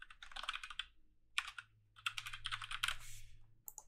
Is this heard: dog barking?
no